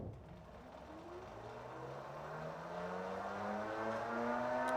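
A 1000-watt e-bike motor revs up in first gear, a steady whirring drone whose tone climbs gradually as speed builds, growing slightly louder toward the end with no talking.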